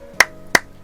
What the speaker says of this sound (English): and I'm clapping.